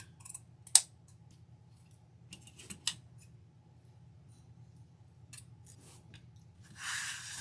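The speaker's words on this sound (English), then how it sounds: "Just gonna go ahead and angle cut our ribbon" Scissors cut ribbon at an angle, giving a few quiet, scattered snips and clicks over a low steady hum, with a soft rustle at the end.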